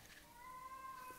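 A house cat meows once in a drawn-out, tonal cry, fairly faint indoors against a low background hum.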